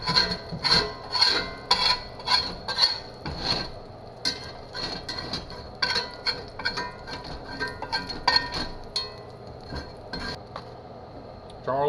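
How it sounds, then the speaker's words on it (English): A utensil scrapes beans out of a pan in a kitchen, with repeated close rasping strokes and light clinks that grow softer and more irregular toward the end. "I'm gonna scrape the stuff out of this pan."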